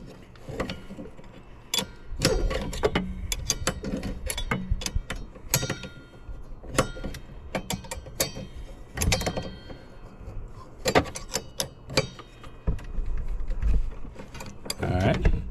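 Metal wrenches click and rattle against the blade nut and washer of a Harbor Freight Warrior 10-inch 15-amp table saw, irregular close ratcheting taps and scrapes with pauses between.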